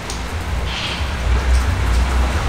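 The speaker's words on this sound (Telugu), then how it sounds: "వర్షం పడుతూ ఉండింది భయంకరంగా." Heavy rain falls steadily in a dense, even roar with a low rumble underneath, continuous throughout and free of speech.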